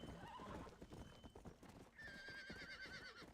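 Horse hooves clip-clop steadily at close range in Red Dead Redemption on PS5, a slow trotting rhythm running the whole time, with a horse whinny and a whistling tone over it partway through.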